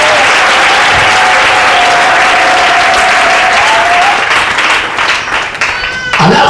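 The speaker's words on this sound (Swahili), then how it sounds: "Mpigie Yesu makofi mazuri." A church congregation at a communion service bursts into loud, sustained applause for Jesus, dense clapping from many hands close by, with a held tone and voices beneath that fade near the end.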